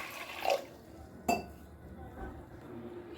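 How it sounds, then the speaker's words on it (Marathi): Water is poured into a pressure cooker holding soaked chickpeas for hotel-style chole, with two short splashing bursts and a light clink against the metal, close by and otherwise quiet. "आणि त्यामध्ये पाणी घालते"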